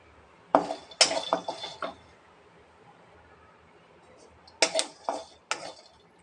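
Peanuts dry roasting in a pan without oil, stirred in two separate bursts of clattering, rattling strokes against the metal, with quiet between them.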